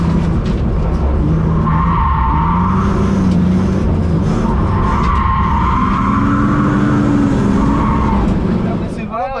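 Long, wavering tire squeals from a BMW M3 drifting, with engine drone underneath, loud and close and continuing for about nine seconds while people talk faintly in the background.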